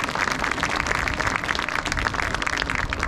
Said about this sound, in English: So please give John a nice big round of applause for that.